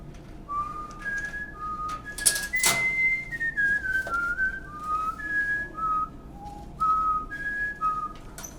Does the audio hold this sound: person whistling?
yes